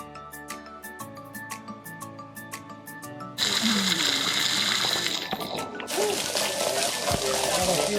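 After a few seconds of music, loud rushing water takes over at Piton Falls in St. Lucia, where a waterfall feeds warm mineral pools, as a dense, steady roar with splashing.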